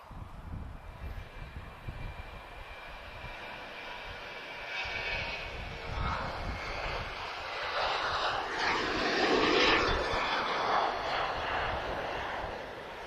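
A Ryanair jet at Lisbon Airport makes a broad engine roar that swells gradually and peaks toward the end as it passes fairly close, with no talking over it.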